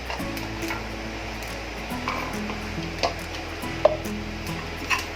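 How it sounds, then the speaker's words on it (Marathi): Niger seeds dry-roasting in a pan for a peanut chutney, with sporadic sharp pops and crackles over a low steady hum, faint at first and growing more frequent toward the end. "मी कारळ भाजलं म्हणजे असं तडतड उडतं ते तिळासारखं आता उडायला लागलंय"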